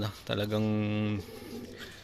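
Racing pigeons coo during a hot-weather training flight, one drawn-out throaty coo rising clearly above quiet surroundings, with faint voices nearby.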